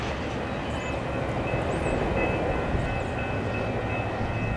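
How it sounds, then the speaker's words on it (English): A westbound Union Pacific priority train rolls through a crossover from track 2 to track 1, a loud continuous rumble of wheels and cars passing close by. "westbound UP priority train takes the crossover"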